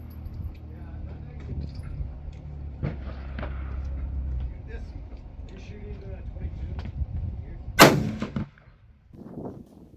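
A 7mm rifle fires at a shooting range: a loud, sharp report near the end, with duller booms earlier over steady background rumble.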